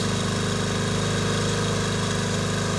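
A 1991 Stiga Multiclip lawn mower engine runs at a steady idle while warming up, with a smoky exhaust, giving a close, loud, even putter with no talk.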